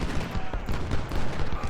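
A volley of massed rifle gunfire from Civil War troops in a strategy battle game, a dense, continuous crackle of overlapping shots lasting under two seconds at steady loudness.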